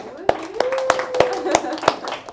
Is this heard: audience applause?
yes